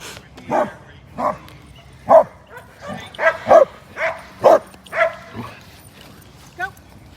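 A dog barks and yips in about ten short, evenly spaced bursts during a game of fetch with a ball, close and fairly loud, with a whimpery edge near the end.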